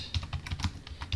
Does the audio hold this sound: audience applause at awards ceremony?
no